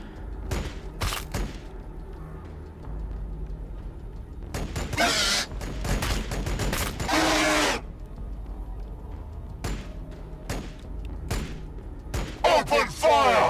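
Bursts of gunfire in the Warhammer 40,000 strategy game Battlesector, sharp rattling volleys and heavy thuds in several separate clusters, with a deep voice shouting among them.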